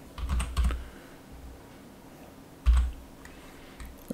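Fingers tap out two short bursts on a computer keyboard, close and crisp, separated by a quiet pause, with no one speaking.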